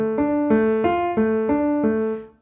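Six clear piano notes on white keys sound in a steady sequence, each struck cleanly and left ringing briefly before the next, with no talking.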